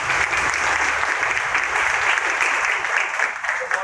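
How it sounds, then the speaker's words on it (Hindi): An audience at a student selection talk claps loudly and steadily in a dense, even burst of applause, with no speech over it. "एक बार जोरदार तालियां हरिंदर"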